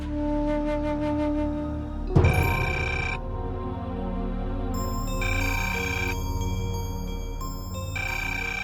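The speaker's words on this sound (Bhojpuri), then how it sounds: "फोन तो उठावा" A telephone rings in repeated electronic ringtone bursts with steady background music underneath, then a louder, brighter ring pattern cuts in midway and continues in pulsing bursts.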